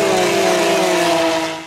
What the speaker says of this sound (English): you have no idea how insanely loud these cars are until you hear them in person